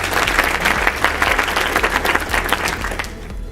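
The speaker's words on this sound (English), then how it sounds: "Let me hear a little sitcom clap, clap." A comedy club audience claps in a quick, dense burst during a stand-up set, steady and fairly loud before tapering off abruptly near the end.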